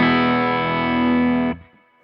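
Electric guitar through a Majestic Overdrive pedal with its controls backed off, a sustained chord ringing with mild distortion for about a second and a half before cutting off into a short decaying tail.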